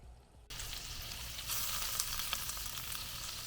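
Pork meatballs fry in a skillet with a steady, close sizzle that starts abruptly and holds, with occasional small pops and spatters.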